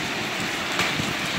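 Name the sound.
rain with hail falling, strong wind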